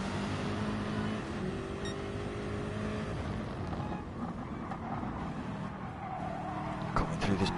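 BMW M6 race cars drive through a racing video game league round at the Dragon Trail Gardens circuit, with a continuous engine roar and tire noise running under steady commentary.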